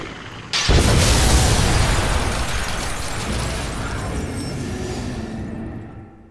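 A building explodes after a Magnum shot in The Evil Within, a sudden loud blast followed by a long rumbling roar that slowly fades away, with no talk.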